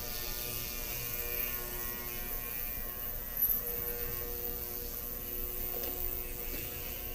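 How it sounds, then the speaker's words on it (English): Ultrasonic cleaner running with carburetor parts and jets inside, a steady electric hum and buzz throughout with faint, brief clinks partway through; no talking. "Now the more weight you put into an ultrasonic cleaner like this, the less effective it'll be."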